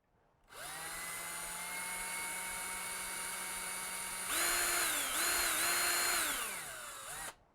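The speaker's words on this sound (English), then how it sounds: "We got a little bit of a drill out to do here." A power drill whines steadily at high speed, then strains and bogs down in pitch a few times as it bites into plastic parts before stopping.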